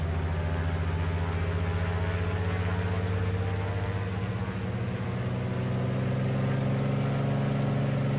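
Grumman Goose radial engines throttling up to takeoff power in Microsoft Flight Simulator, a steady loud droning roar that climbs slightly in pitch as power builds.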